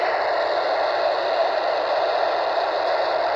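Unsquelched two-way radio static, a steady hiss of broadband noise held at an even level throughout with no transmission or voice, cutting off abruptly at the end.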